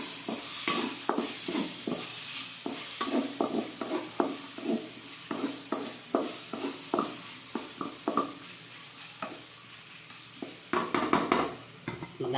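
Onion and garlic sautéing in a pan are stirred with a utensil, giving a steady run of scraping, clinking strokes over a soft sizzle, close up with no talk.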